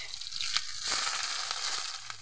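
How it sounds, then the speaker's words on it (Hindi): Onion fries in a little oil alongside garlic and green chilli for a bitter gourd dish, a soft, steady sizzle with faint stirring scrapes and clicks. "अब ये प्याज ला थोड़ा हमन ला लाल के होतला भूंजना है"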